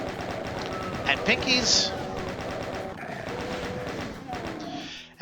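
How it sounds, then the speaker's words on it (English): Weapons firing in the video game DOOM, rapid bursts of shots and game effects under someone talking, with a few louder blasts mid-clip. "Maybe we'll use bullets to start, and then we'll switch to the plasma rifle."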